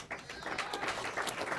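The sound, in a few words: audience applauding at award show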